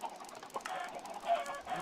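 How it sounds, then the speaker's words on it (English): Minecraft chickens on a game chicken farm, soft repeated clucks from several birds, fairly faint, with no talk. "Ton of little chickens."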